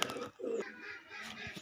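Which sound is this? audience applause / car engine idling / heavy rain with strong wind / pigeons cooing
pigeons cooing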